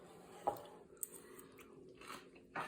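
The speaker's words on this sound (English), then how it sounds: "Great crunch, really nice spicy flavor." Refrigerated spicy pickled cabbage is bitten and chewed close up, with a few crisp crunches followed by softer chewing sounds in a quiet room.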